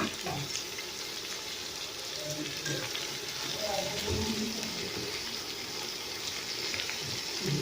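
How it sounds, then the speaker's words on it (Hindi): Garlic and ginger paste frying in a pan for a brinjal and potato curry, a steady soft sizzle with occasional stirring scrapes, fairly quiet and close. "ये लहसुन और अदरक इसमें भुन चुका है"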